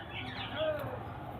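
Giribaz pigeons at a bird sale at a roadside market, cooing softly in low, murmuring calls, close by, with faint background bustle.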